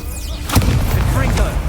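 Fire spell cast in a Hogwarts video game: a sudden booming burst of magic, loud and close, followed by crackling game effects with a voice shouting over it.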